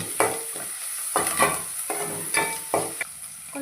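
Samosa filling of potato with green chilies, curry leaves and coriander stirred and fried in a pan, loud rhythmic scraping strokes about every half second over a constant sizzle.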